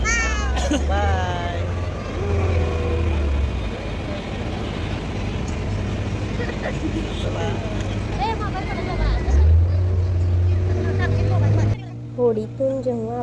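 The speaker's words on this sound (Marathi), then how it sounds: "कृष्णामाईच्या पात्रातून या होडीने प्रवास करणार आहे" A small wooden boat travels along the Krishna river with a steady low engine drone running throughout, under near-constant talking and a busy crowd babble from the riverbank.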